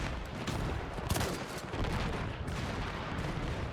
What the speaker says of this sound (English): I think the artillery is following me, isn't it?